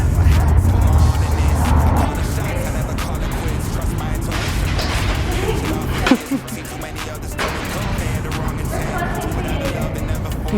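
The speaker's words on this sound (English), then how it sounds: "Here's some car passes." Cars pass by on a road in a steady broadband wash of traffic noise, with one sharper pass about halfway through. People talk over the traffic.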